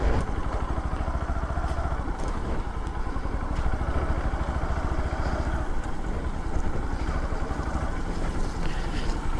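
An NS motorcycle rides through a rain-flooded road with its silencer underwater, the engine's steady drone mixed with continuous rushing water and wind noise.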